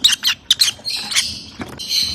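Small pet birds indoors give a quick series of shrill squawks and chirps, several close, harsh bursts in quick succession with brief pauses between.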